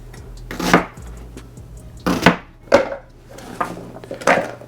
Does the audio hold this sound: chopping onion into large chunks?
yes